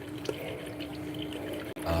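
A small water pump runs water onto a whetstone, giving a steady, even trickle and splash that continues throughout with a brief drop near the end.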